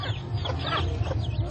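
Chickens cluck aboard a small boat on the Tonle Sap lake in Cambodia, a busy run of overlapping clucks and calls held steady over a constant low background, with no one talking.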